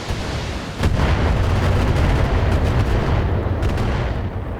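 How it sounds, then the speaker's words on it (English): Turret fire in the mech combat game Battletech, heavy booming shots that start abruptly and roll into a loud, dense barrage of blasts and rumbling impacts, close and sustained, with no talk. "Oh, Cyclops is getting shot at."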